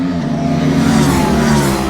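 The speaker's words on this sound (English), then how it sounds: "270-degree crank sounds a bit like a V-twin" A 2024 Aprilia RS457 sportsbike with a 270-degree crank parallel twin revs hard on a race track, giving a deep, loud, steady engine roar with layered harmonics, close to the bike and without speech.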